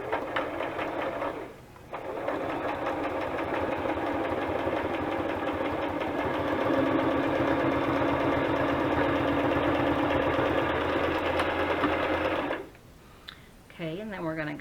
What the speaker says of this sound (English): just sewing on your sewing machine